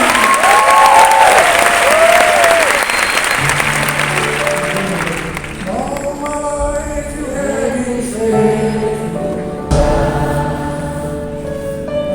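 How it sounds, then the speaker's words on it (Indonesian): A church congregation claps loudly in a full, steady burst of applause that gradually thins after a few seconds, giving way to voices and musical tones that carry on to the end. "Haleluya, beri tepuk tangan buat Tuhan."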